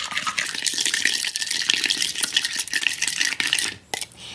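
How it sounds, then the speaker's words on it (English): A spoon stirring coffee and sugar in a cup for Dalgona coffee, a quick rapid scraping and clinking swirl that runs nearly continuously, close up, then briefly drops away near the end. "Now we're just going to stir."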